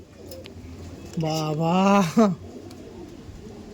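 An Andhra pigeon gives one drawn-out, rising throaty coo followed by a short second note, close and clear, with someone talking nearby.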